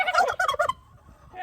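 A pet turkey gobbles loudly and close by in a rapid burst of rattling calls lasting under a second, followed by a brief quiet and a faint trailing sound.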